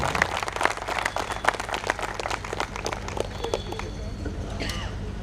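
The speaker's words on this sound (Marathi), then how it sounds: "ह्या दोघांसाठी जोरदार टाळ्या वाजवा" A crowd claps throughout, a dense steady patter of hands at a public felicitation event, holding at an even level for the whole stretch with a voice faintly present underneath.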